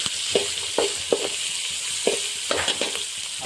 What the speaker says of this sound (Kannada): ಚೆನ್ನಾಗಿ ಫ್ರೈ ಮಾಡ್ತಾ ಇದ್ದೀನಿ